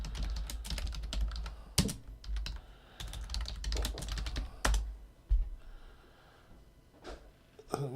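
Quick bursts of typing on a computer keyboard, close clicking keystrokes in clusters with pauses, plus a few heavier taps and breathing noises under occasional speech.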